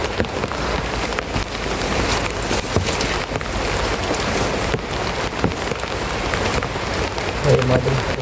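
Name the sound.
rain falling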